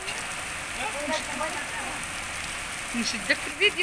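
Winter rain falls in Agadir, a steady dense hiss of drops on surfaces filling the whole stretch, with a voice speaking briefly near the end.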